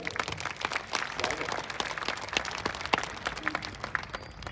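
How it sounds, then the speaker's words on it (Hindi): An audience at a large Hindi poetry gathering in Rajasthan claps in a scattered, fairly faint and distant way, with sharper individual claps standing out from the patter. "एक बार दोनों हाथ उठाकर तालियां बजा के मुझे बताइए"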